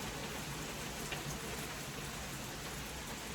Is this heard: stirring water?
no